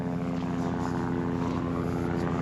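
A helicopter flies overhead above woodland on the South Downs Way, a steady, loud drone with a low throbbing hum, continuous throughout and passing close.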